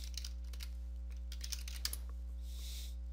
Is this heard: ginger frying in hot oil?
no